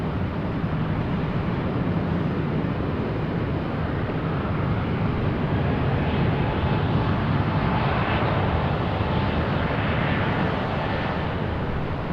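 A JetBlue airliner at Raleigh Durham airport roars steadily with loud, broadband jet engine noise, continuous and close, with no talk over it.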